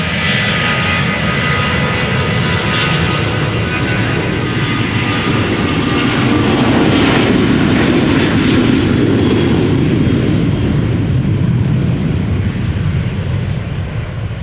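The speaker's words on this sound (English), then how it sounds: "KLM flight 935 to Dublin." A KLM Boeing 737-800 jet airliner, bound for Dublin, roars loudly at Schiphol Airport, its engine noise building and swelling near the middle before easing off, with no voices.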